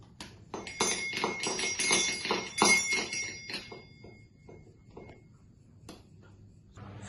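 Rapid metallic strikes from a small bell hit by a motor-spun striker on a homemade school physics prototype detector, a dense ringing clatter for about three seconds that thins into scattered faint taps and then quiet.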